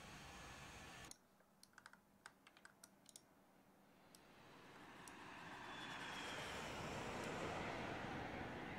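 IXEG Boeing 737 flyby in X-Plane 10, a jet roar rising slowly from faint to loud and broad over several seconds, with a few sharp keyboard clicks near the start; no talking.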